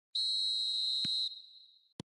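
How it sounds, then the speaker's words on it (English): Referee's whistle opening a match in the football game eFootball: one long, shrill blast that tails off, followed by two short, dull knocks, with no commentary over it. "There's the whistle, and here we go."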